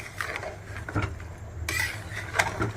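A spoon stirs rice and chicken in a pot for yakhni chicken pulao, with a few close scrapes and knocks against the pot over quiet room noise.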